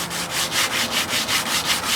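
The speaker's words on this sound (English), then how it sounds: "You've got your sander, Andy." A sander works wood, rubbing back and forth in a steady, close rhythm of about seven even strokes a second, loud and continuous with no voices.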